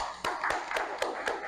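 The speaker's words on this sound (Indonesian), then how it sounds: "Kasih tepuk tangan." Classroom clapping after a teacher's cue to reward students, heard as a series of sharp claps at a steady beat, loud and close, with no talking over them.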